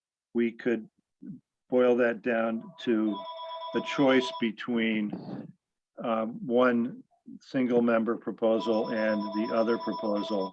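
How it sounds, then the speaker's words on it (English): A telephone rings repeatedly with bright, steady electronic bell tones during a Vermont Legislative Apportionment Board meeting, sounding in several bursts beneath a man's continuous speech. "apologize for the phone ringing"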